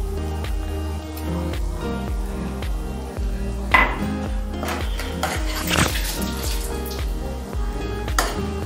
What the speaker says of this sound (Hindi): लहसुन अदरक डाल देते हैं।